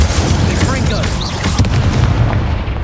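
An Incendio fire spell is cast in a Harry Potter video game, making a loud, sustained booming roar of dense low rumble that fills the short moment with little variation.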